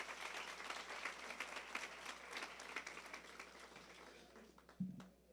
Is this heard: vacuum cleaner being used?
no